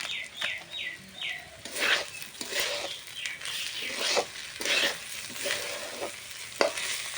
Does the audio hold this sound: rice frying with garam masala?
yes